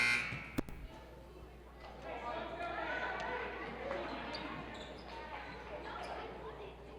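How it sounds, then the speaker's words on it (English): A short electronic buzzer sounds near the start at a girls' high school basketball game in a gym, followed by steady crowd murmur and a commentator talking over the scene. "And the buzzer sounded,"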